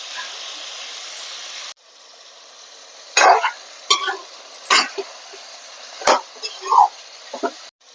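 Mutton frying in a pan, a steady sizzle first, then quieter hiss broken by several scraping stirs of a spoon against the metal, all close and clear.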